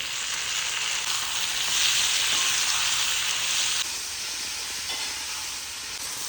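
Steady, bright sizzling of chopped shallots and tomatoes sautéing in hot oil with garlic, a continuous close hiss that drops slightly in level partway through, with no voices.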